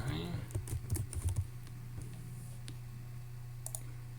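A name is typed on a computer keyboard during a Pop!_OS 19.10 installation, a quick burst of close key clicks with a few scattered taps afterward and faint background hum.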